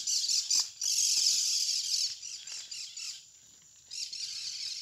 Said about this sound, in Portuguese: Periquito cantando.